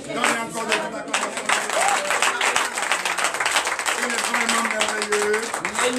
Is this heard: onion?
no